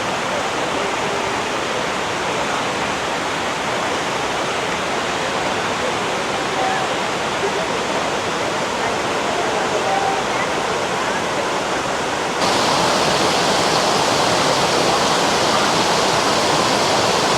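A waterfall in a four-level waterfall complex on Siquijor island, Philippines, roars with a loud, steady broadband rush that continues unbroken and grows slightly brighter near the end.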